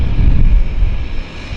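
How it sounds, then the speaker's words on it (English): A Twin Otter twin-engine airplane takes off at Vancouver's downtown harbour, its engines giving a loud, close, continuous rumbling roar with some wind buffeting the microphone. "all Twin Otter takeoffs are nice takeoffs, right?"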